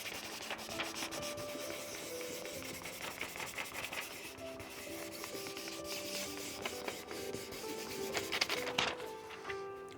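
Repeated rubbing strokes as a carrier sheet is burnished down during a hat box craft project, a steady scraping friction with faint background tones.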